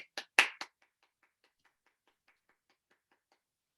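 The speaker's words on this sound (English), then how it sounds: "let's give these students a round of applause as well" A few loud, close hand claps from a small audience at a university psychology honor society induction ceremony, then a quick fade into faint, scattered claps before quiet.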